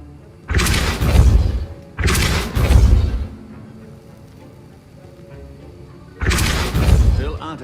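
Three heavy, booming blasts of the Depulso spell in the Hogwarts Legacy game, each a deep thud lasting about a second, the first two close together and the third after a quiet gap.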